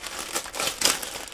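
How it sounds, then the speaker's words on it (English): Plastic bag crinkling as it is opened while unboxing a Ugee U1200 pen display, close and fairly loud crackling in short irregular bursts, alone with no talk. "we're going to go ahead and open the bag, the plastic bag."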